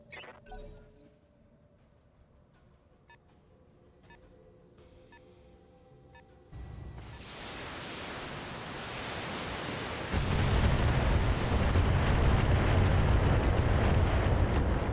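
Mech weapon fire in BattleTech: faint clicks and tones at first, then a sudden loud rumbling blast that swells into a heavier, sustained roar of explosive noise.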